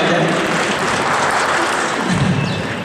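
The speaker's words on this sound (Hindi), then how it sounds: "अगर समझ पा रहे हैं तो तालियां हो जाए" Audience at a Hindi event applauding in a sustained, dense burst of clapping that stays loud throughout, tapering slightly near the end.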